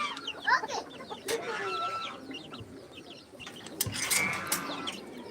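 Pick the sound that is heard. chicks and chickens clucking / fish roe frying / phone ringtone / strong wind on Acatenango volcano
chicks and chickens clucking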